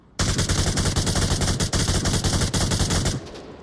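Sustained automatic rifle fire in the VR shooter Onward, a loud rapid stream of shots lasting about three seconds before cutting off abruptly, with no talk over it.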